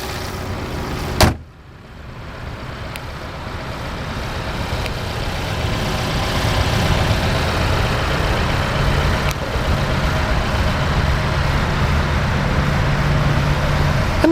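A 2012 Fiat 500C Gucci Edition with a MultiAir inline four-cylinder engine starts with a short sharp crank and catch, then settles into a steady, even idle hum that continues to the end, with no talking.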